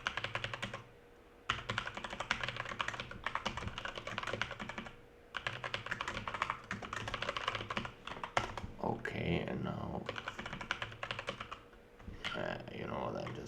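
Rapid typing on a computer keyboard, a steady patter of close key clicks in bursts with short pauses, while a voice speaks briefly over it.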